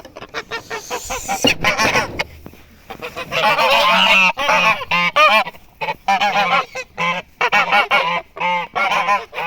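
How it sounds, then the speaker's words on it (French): A flock of Toulouse geese honks loudly and close by, overlapping nasal calls coming in rapid, repeated bursts with barely a pause. "Donc voilà les oies de Toulouse."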